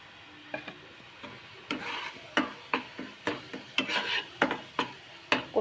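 Fried masala paste with red chili powder and coriander powder being stirred in a pan, a regular series of close scraping strokes over a faint sizzle.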